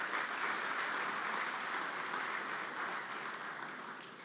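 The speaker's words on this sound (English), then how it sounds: "So I think that he deserves another round of applause." Audience at the NIES 2025 opening ceremony gives a round of applause, a steady, fairly faint wash of many hands clapping that slowly fades toward the end.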